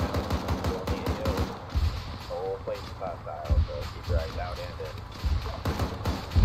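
Sharp bursts of video game gunfire pop out in short volleys every couple of seconds, sitting under and between steady team voice chat.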